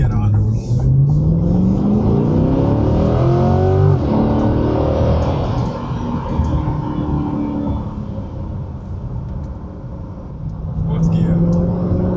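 A car fitted with an AWE Touring exhaust accelerates in fourth gear. Its loud, close engine drone climbs steadily in pitch, eases off, then pulls again near the end.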